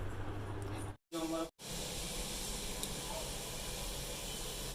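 A pressure cooker with fish dal on the stove lets out a steady hissing rush of steam. It cuts out briefly twice near the start, then carries on evenly.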